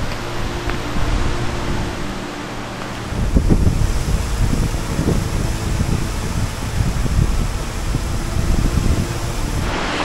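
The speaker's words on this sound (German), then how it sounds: "Jetzt zieht auch richtig Wind auf." Strong wind gusts buffet the microphone on a lake as a storm arrives during a canoe trip, a loud continuous roar that swells midway with water noise beneath.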